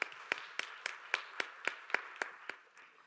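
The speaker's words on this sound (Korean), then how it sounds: "박수로 서로를 격려하겠습니다." A church congregation claps in a steady, even rhythm, about eleven crisp claps, evenly spaced and fairly soft, with no voices over them.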